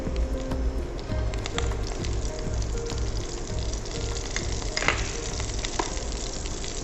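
Cumin seeds sizzle and crackle in hot oil while a Rajasthani gatta curry tadka is being made, a steady, close frying hiss with small pops throughout and no talking.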